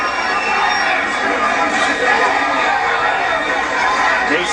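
Boxing arena crowd reacting as one fighter goes on the attack, a dense steady roar of many voices filling the space, loud and continuous throughout.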